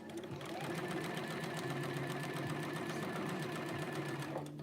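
A serger sewing machine runs steadily as it stitches fabric, with a fast, even mechanical chatter and hum that holds for several seconds before stopping abruptly.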